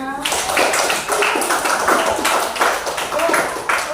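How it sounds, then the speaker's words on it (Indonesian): A class of schoolchildren clapping their hands together in a classroom, quick and lively and close by, running unbroken from the very start to the end. "tepuk tangan kita semua"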